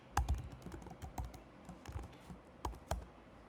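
Code typed on a computer keyboard during an automation testing tutorial: a few sparse, soft key clicks and taps at uneven intervals, close but fairly quiet, with no voice.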